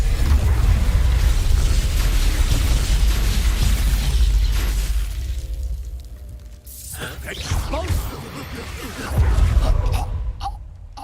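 Magic Expulso spells in the Hogwarts Legacy video game go off as heavy booming blasts, a long rumbling explosion followed by a quieter pause and another loud burst near the end.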